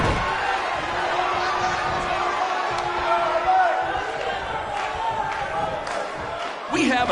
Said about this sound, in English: We have a sold-out, record-setting crowd here for BCW tonight.